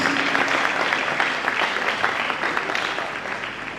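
A conference audience applauds again, a fuller and denser burst of clapping that carries steadily for a few seconds before tapering slightly, with no talk over it.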